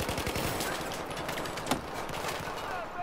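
Rapid bursts of AUG assault rifle fire in Battlefield 4 multiplayer, dense and continuous for the whole stretch, with one sharper crack near the middle and a faint voice mixed underneath.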